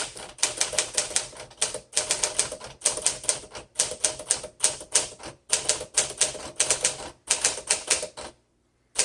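Typing on a 1953 Smith Corona Sterling 5A typewriter: close, crisp bursts of rapid key strikes in quick clusters, separated by brief pauses and a short silence near the end.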